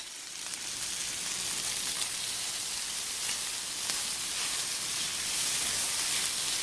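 Cream cheese melts in butter in a hot pan, giving a steady close sizzle and crackling hiss with occasional stirring scrapes, and no one speaks.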